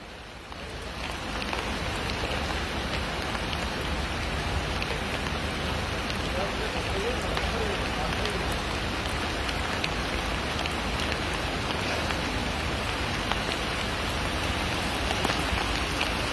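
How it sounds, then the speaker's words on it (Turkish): Heavy downpour of rain during a cloudburst in Ünye, Turkey, a dense steady hiss of drops hammering surfaces that holds loud and unbroken throughout, with no clear voices rising above it. "Yağmur da çok yağıyor."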